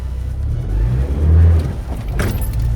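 A manual car pulls away in first gear as the clutch is let out with a little gas, a close low engine drone that swells and settles under a faint jangle of keys.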